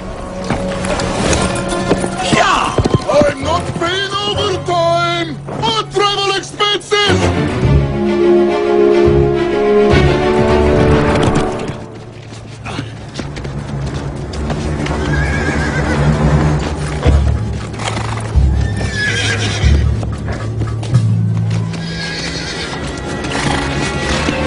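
A horse whinnies loudly and repeatedly while its hooves clip-clop close by, the neighs and hoofbeats filling the scene with no talk over them.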